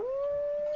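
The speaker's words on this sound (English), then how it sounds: "There's this howl." A single direwolf howl from Ark Survival Evolved, a smooth sustained tone rising slightly at the start and then holding steady, clear and close with nothing else around it.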